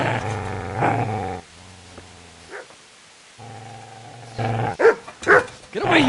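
A dog in the video game Kingdom Come: Deliverance growls in two low, sustained rumbling bursts separated by a short pause, loud and close, followed by excited voices.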